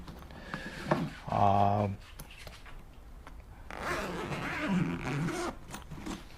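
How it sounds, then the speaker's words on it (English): A zipper on a Viking motorcycle bag rasps open in a quick pull, followed by rustling and handling of fabric and objects inside the bag. "This top zipper opens up to the inside."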